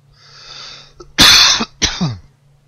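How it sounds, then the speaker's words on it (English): A man has a loud, close coughing fit: one long harsh hacking burst followed by a second shorter cough and a strained throaty tail, with soft breathy noise just before. "Coughing fit."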